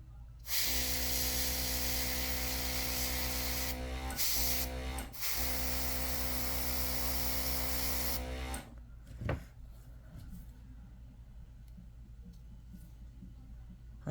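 A long, loud continuous spray hiss of paint over a nail-art stencil, close up, with two brief breaks, then it stops leaving a few clicks and faint room noise.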